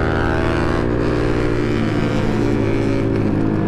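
A standard motorcycle engine running loud and close on a night ride, with a steady drone and shifting revs throughout and no voices.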